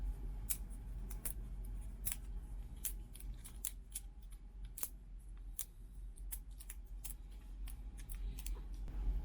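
Scissors cut open a plastic cup that serves as the pot for a Desert Rose (Coroa de Diamantes) plant, with repeated sharp snips and crackles over a steady low background hum.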